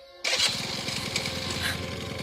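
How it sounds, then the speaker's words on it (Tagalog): A motorcycle engine catches after a silent start, then runs loud and close with a steady throbbing idle and slight throttle swells, continuing without letup. "Pakipihit nga ng throttle kung hindi mamamatay ang makina."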